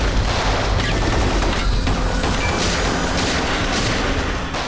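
Heavy gunfire in a shootout scene from the Indian TV crime serial CID, with dense, loud overlapping shots and booms filling the whole stretch with no talking.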